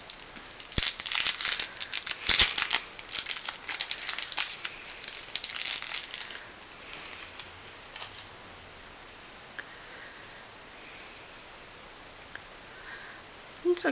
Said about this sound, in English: I hate the sound of rattling plastic.